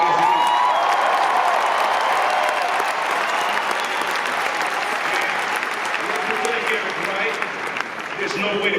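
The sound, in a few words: audience applauding and cheering for Eazy-E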